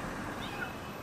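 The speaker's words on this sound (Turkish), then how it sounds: "kediyi çıkartmış olduk" A cat just rescued from under a car's hood gives a single faint meow over steady outdoor background noise, with no voices.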